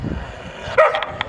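A dog gives a short, sharp bark followed by a couple of fainter yips, close by, over a steady murmur of background noise.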